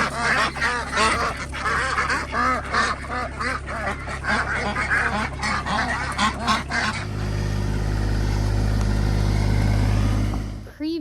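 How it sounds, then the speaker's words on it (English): Farm ducks and geese near a pond honk and quack loudly in a rapid, overlapping chorus for about seven seconds. A steady low rumble, like an engine or wind, then takes over to the end. "we did move our ducks back into the fenced-in area."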